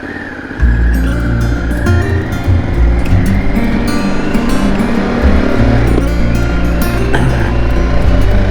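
A car passes on the narrow Hardknott Pass mountain road. Its engine comes in suddenly, stays loud and close, and rumbles low and steady as it pulls by, with no talk.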